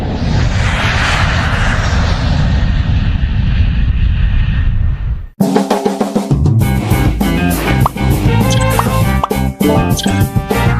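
Airplane flight sound effect: a loud steady roar of jet engines for about five seconds, then abruptly cut into loud music.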